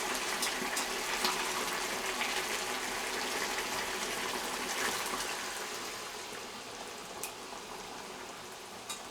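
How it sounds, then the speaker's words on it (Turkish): Hot water poured over meat in a pot for a basil-seasoned boiled meat dish, a continuous rushing, bubbling pour that fades slightly toward the end, close and fairly loud. "Şimdi üzerine yeteri kadar e, sıcak su koyacağız."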